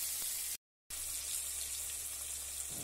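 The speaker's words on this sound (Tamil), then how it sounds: "மீனை போட்டு ஃப்ரை பண்ணி எடுத்துக்கலாம்." Fish fries in hot oil with a steady, dense sizzling hiss, broken briefly by a short gap of silence near the start before carrying on evenly.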